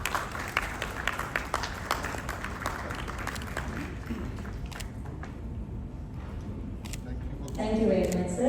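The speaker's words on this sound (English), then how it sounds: "A big round of applause for gentlemen." Audience applause at a skill development conclave for the aerospace, defence and MSME sector, a steady mass of clapping that fills the room from the start and swells louder near the end, with voices mixed in.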